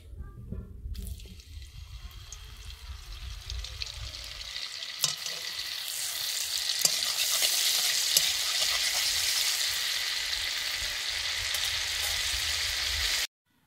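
Butter added to hot oil in a kadai, a quiet opening followed by a bubbling sizzle that swells over several seconds and stays strong and close until it cuts off abruptly.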